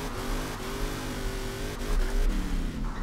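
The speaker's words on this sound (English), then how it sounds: "Is this my new favorite drift truck?" Engine of a Ford Raptor Ranger drift truck revs, its pitch rising and falling in steady sweeps, with a swell in revs near the end; no one speaks over it.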